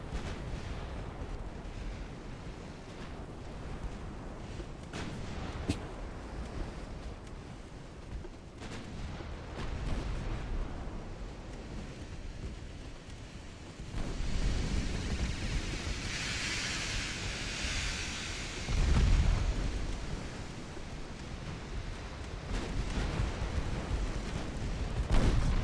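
Warship guns firing in Ultimate Admiral Dreadnoughts sound as a constant low naval rumble. Heavy booms land again and again over a hiss like sea spray, and the volume climbs toward the end.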